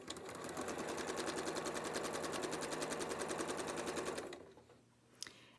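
A sewing machine runs a quilt block seam in one continuous fast, even stitching burst lasting about four seconds, then stops abruptly, leaving a quiet room with a small click.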